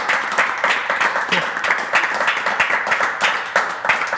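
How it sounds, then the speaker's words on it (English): A small audience gives a warm round of applause after a talk on independent filmmaking, sparse, distinct claps in an uneven rhythm, fairly close and moderately loud. "please, a warm round of applause for Mik Stolz"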